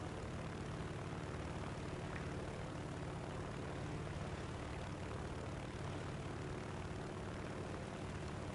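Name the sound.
Bf 109 aircraft engine in War Thunder video game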